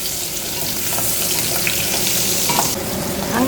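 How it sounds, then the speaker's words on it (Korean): Carrot, zucchini and mushrooms stir-fried in a hot pan for curry, with a loud, dense, continuous sizzle and scraping stirring close up, and no voices. "당근부터 다시 당근하고 호박하고 버섯을 이렇게 볶을 거예요."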